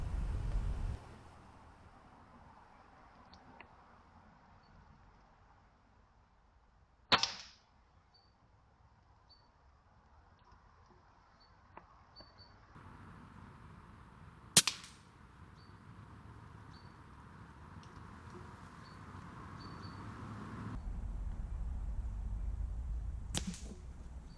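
An Air Arms S510 Ultimate Sporter air rifle is fired at a squirrel outdoors. A few sharp, brief cracks stand out against a quiet, faint background.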